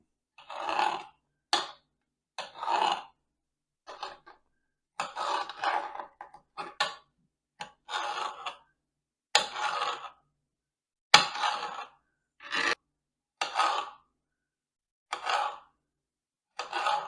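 A knife chopping red pepper on a cutting board: a series of separate sharp, close cuts in an irregular rhythm with silent gaps between them.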